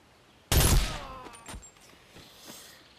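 PDRC bullpup gun in Bonelab fired once: a loud, sharp blast with a ringing tail, followed by a few fainter clicks and clacks of handling.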